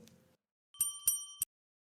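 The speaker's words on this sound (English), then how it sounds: "Hawkins, ring that bell." A small handbell rings three quick times, bright and clear with long ringing tones, after a brief low murmur and then quiet.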